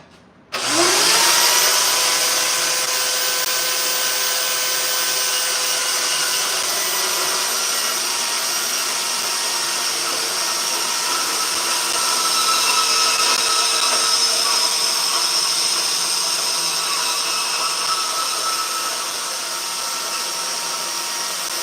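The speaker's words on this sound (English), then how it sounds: "Let me cut another piece." A power tool spins up abruptly and then cuts through a piece of metal with a loud, sustained high-pitched whine and harsh grinding that holds for about twenty seconds, easing slightly near the end.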